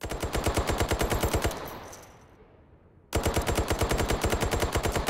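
Rapid automatic gunfire from a VR shooting game rattles loud and close, a steady burst that trails off into a quiet gap before another sustained burst starts abruptly.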